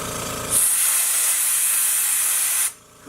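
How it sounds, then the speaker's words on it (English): A quiet air compressor releases air in a steady, loud, close hiss lasting about two seconds before cutting off abruptly, with a soft low hum before and after. "And you'll hear when I let a little air out"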